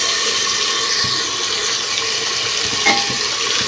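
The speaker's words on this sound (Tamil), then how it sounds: "அதனால் தயிர் கொஞ்சம் சேர்த்துக்கலாம்." Curd stirred into meat for biryani in a hot pan, giving a steady wet sizzle with soft squelching and scraping as the mixture is worked, close and continuous.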